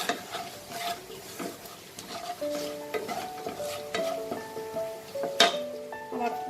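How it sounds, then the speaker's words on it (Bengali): Whole garam masala spices sputter and crackle in hot oil, tempering for a stuffed pointed gourd dolma, amid frequent metal stirring clinks and scrapes against the pan at close range. "আর একটু গোটা গরম মশলা আমি ফোড়নে দিয়ে দেবো"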